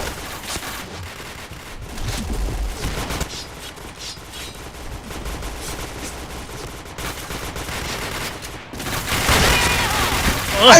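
Rapid gunfire and bursts of automatic weapons fire from a video game, with gamers chatting throughout, growing louder and denser near the end.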